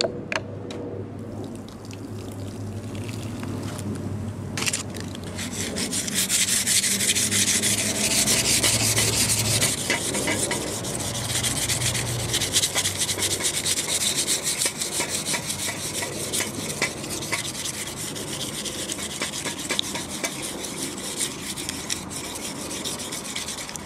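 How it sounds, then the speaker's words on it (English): Aluminum foil scrubs rust off the chrome exhaust of a 1982 Harley FXRS, a continuous gritty, rasping rub up close that grows louder after a few seconds and keeps going steadily without talk. "just take some aluminum foil,"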